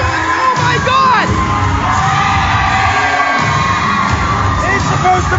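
A wrestling crowd at an RWA Aggression event roars and cheers loudly and continuously, with whoops and yells rising from a dense, sustained wall of noise.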